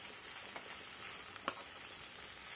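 Onion pieces fry with turmeric and salt in a pan for a jackfruit seed and drumstick curry, giving a soft, even sizzle with one light clink of a utensil.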